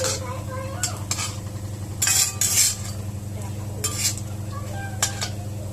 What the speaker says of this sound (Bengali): এই যে লাল লাল করে পাতাকপির বড়া ভাজা হচ্ছে